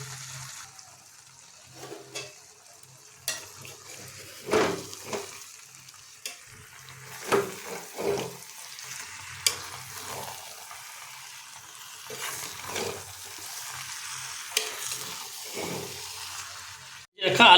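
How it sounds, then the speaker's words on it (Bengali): Jackfruit and potato pieces are sautéed over a low flame in a pan, a quiet sizzle with scattered scraping stirs and soft clinks, fairly close, with no talking. "এখন এটাকে আমরা 5 মিনিট ধরে লো ফ্লেমে কষিয়ে নেব।"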